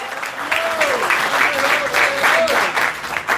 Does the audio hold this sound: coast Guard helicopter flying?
no